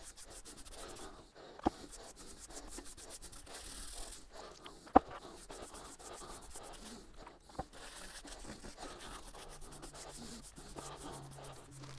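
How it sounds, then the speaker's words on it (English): Sanding sealer is rubbed by hand onto a painted oak bowl, giving a steady, close, soft scrubbing rustle throughout with a few sharp taps and clicks and no talk. "I'll just give this a coat of sanding sealer now"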